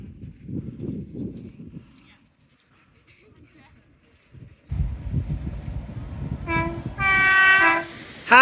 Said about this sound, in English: Happy train, see me filming!